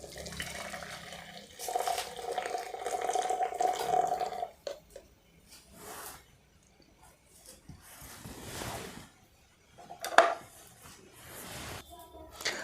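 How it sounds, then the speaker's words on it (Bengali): Tea poured through a strainer, with a steady liquid trickle for a few seconds followed by scattered clinks and splashes and a short burst near the end, close and fairly quiet. "এরপর চাটি আমি ছেঁকে নিচ্ছি।"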